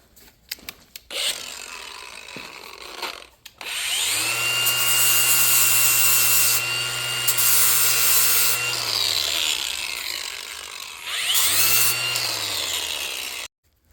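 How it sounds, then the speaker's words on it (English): Metal file or grinder working down the peened-over tip of a steel shaft on an abandoned 1991 Dodge Grand Caravan SE, loud steady abrasive rasping in two long passes with a brief pause between and no talk. "let me file off the tip where we peened it over really bad"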